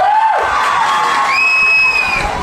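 A crowd gathered at a Durga Puja pandal cheers and shouts together, loud and close, with whistle-like whoops rising above the steady roar of voices.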